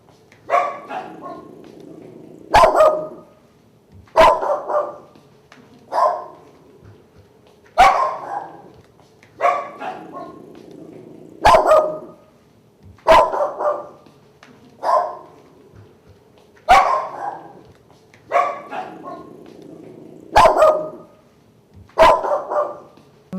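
Dogs at the Oregon Humane Society shelter bark in loud, regular bursts, one sharp volley every second or two, echoing close by in a quiet room.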